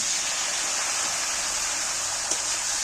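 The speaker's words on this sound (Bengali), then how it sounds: "টমেটোগুলো তেলের উপর পুড়ে যাবে বলে আমি একটু একটু সামান্য জল দিচ্ছি" Tomatoes and spices frying in oil sizzle after a little water is added, an even broadband hiss held steady close by, with one brief sharper crackle near the end.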